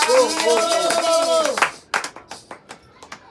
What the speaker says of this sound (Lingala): Est-ce qu'on peut acclamer le Seigneur des Seigneurs?